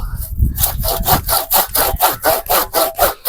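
A handsaw cuts through the top of a juniper tree in steady, rhythmic back-and-forth strokes, about ten loud, close rasping passes in quick succession.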